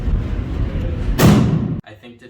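A cannon is fired at a morning formation at Massachusetts Maritime Academy: a single heavy, booming thud over outdoor background noise, cut off abruptly.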